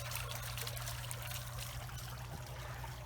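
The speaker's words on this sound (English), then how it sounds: "The water's flowing." Water trickles and flows steadily in a backyard garden, a soft continuous stream under a low, constant background hum.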